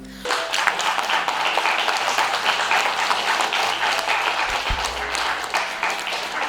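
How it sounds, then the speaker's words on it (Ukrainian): Audience applause follows a recitation at a Shevchenko poetry reading contest, a dense burst of many hands clapping that starts abruptly and stays loud and steady to the end. "Ваші аплодисменти"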